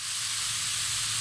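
Steak sizzling as it fries, a steady broadband hiss with no pauses, close and fairly quiet, with no voices over it.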